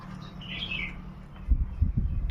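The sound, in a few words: bulbul bird singing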